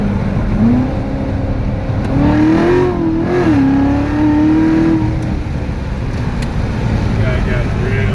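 A stock 2016 Corvette Z06 pulling hard under acceleration, its engine note climbing steadily in pitch and holding loud and close from inside the cabin, with road roar underneath.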